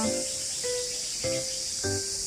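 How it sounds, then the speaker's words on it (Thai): A dense, steady chorus of crickets buzzes without pause in a forested temple ground, with faint tonal sounds drifting underneath. "เสียงจิ้งหรีดเลไลเดินไปมุมไหนก็จะร้องตามค่ะ"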